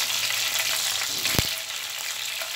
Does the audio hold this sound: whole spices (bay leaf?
yes